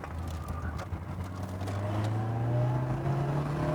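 A cheap Mercedes-Benz car driving down a country lane, its engine droning steadily and rising slightly in pitch as it gains speed, heard from inside with road noise and no talk.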